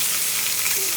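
Asafoetida, mustard seeds, cumin and curry leaves sizzle in hot oil in a kadhai for an amti tempering: a dense, steady, close crackling hiss with no pauses.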